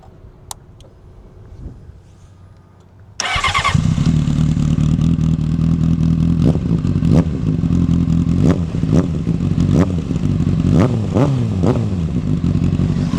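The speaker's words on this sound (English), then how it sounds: "we could start it up, listen to the exhaust" A Honda CBR600RR fitted with a Jardine aftermarket exhaust fires up after a quiet lead-in, then settles into a loud, close, steady idle punctuated by sharp throttle blips.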